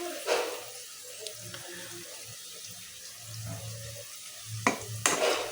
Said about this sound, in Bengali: আমি আলু ভাজতেছি